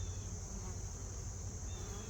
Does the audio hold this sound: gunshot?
no